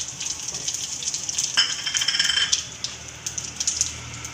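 Cumin seeds, curry leaves and asafoetida crackle and sizzle in hot oil, with sharp popping bursts over a steady frying hiss and some stirring clatter in the pan.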